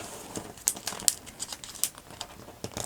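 Origami paper being folded into a dragonfly crinkles and crackles in short, irregular bursts close up, with a few sharper crisp snaps among softer rustles.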